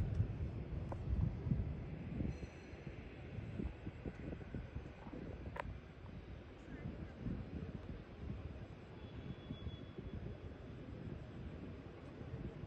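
A passenger airplane coming in to land at Bengaluru's Kempegowda airport at night, heard as a steady, fairly distant low engine rumble and hum that holds evenly throughout.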